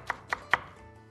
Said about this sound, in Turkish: Bunları da minik minik doğrayalım.